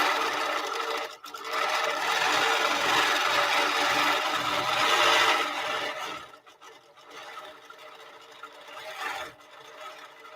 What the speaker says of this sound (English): Go ahead and do some quilting.